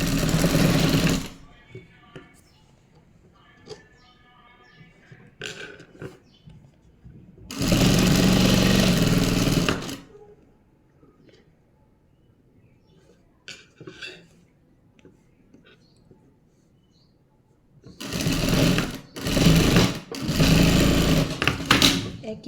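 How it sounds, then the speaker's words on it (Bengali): A sewing machine stitching a narrow double-folded sleeve cuff: three loud, close bursts of rapid mechanical stitching separated by quiet gaps with faint handling, with someone speaking softly in between. "মুহুরির কাপড়টা সেলাই করব চিকন করে ভাঁজ দিয়ে।"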